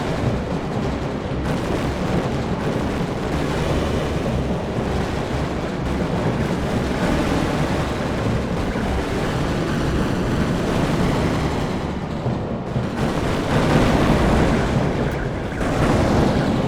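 A ship's magazine explosion in the naval video game Victory at Sea gives a long, dense roar of booms and rumbling blasts, loud and continuous with a swell near the end, with no speech.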